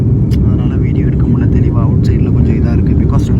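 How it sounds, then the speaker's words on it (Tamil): Inside the cabin of an airliner taking off, a loud constant low engine rumble fills the background while someone talks over it throughout. "நம்ம ஃப்ளைட் வந்து பார்த்திங்கன்னா டேக் ஆஃப் ஆகிடுச்சி"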